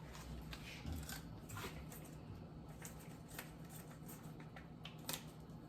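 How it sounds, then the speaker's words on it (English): Scissors or a knife cutting open a plastic sous vide bag holding pork chops, a series of quiet crinkly snips and rustles close by, faint and irregular throughout. "So what I'm gonna do is cut it out of this bag"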